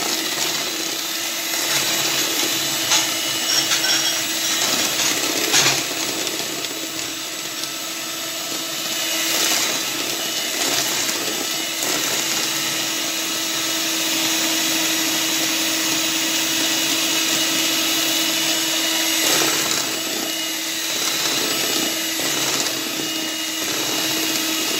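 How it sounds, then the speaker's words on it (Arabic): Eggs whipped with 150 grams of sugar until white and foamy: a steady, loud whir from an electric mixer running continuously, with faint knocks of the beaters against the bowl. "غنزيدو ديك 150 غرام ديال السنيده، وغنبقاو كنخلطوا فيه حتى كنحصلوا على واحد الكشكوشه تكون بيضه"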